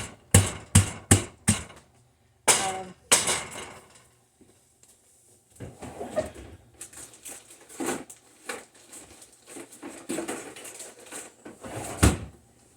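A hammer breaks homemade hard candy: a series of sharp, hard knocks, several in quick succession, then scattered lighter taps and clatter of pieces with quiet pauses between.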